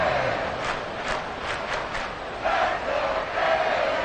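A big American football stadium crowd roars and cheers, a broad surging wall of voices that swells louder midway and stays loud and distant-sounding without any clear talk.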